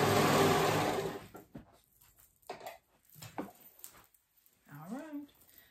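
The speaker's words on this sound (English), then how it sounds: "And then we're gonna go ahead and sew." A sewing machine stitches a summer dress in a short, loud run of fast whirring, then stops as a person talks quietly over faint handling sounds.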